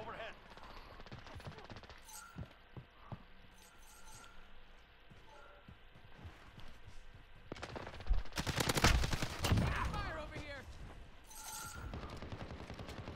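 Gunfire from the video game Modern Warfare, with scattered shots at first and then a dense, loud burst of rapid fire in the middle, followed by more sporadic shots. Speech is present throughout.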